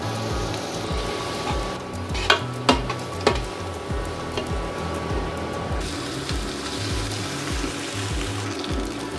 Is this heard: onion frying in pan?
yes